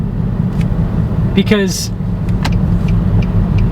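A Nissan Xterra SUV is driving, giving a steady low engine and road rumble inside the cabin while someone talks over it, with a brief squeak partway through.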